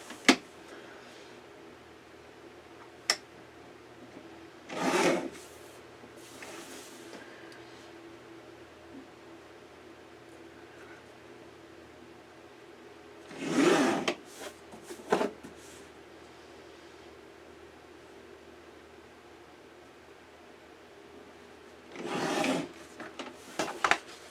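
Black paper for a mini album being trimmed down, giving three separate bursts of cutting or scraping noise spaced several seconds apart against a quiet background.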